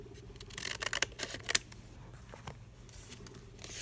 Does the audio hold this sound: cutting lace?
yes